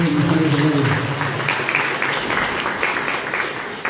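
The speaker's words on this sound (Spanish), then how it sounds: "un fuerte aplauso para el maestro Freddy González" Applause from the audience at a book presentation in Arequipa, a continuous moderate clapping that stays fairly even throughout with a low hum underneath at the start.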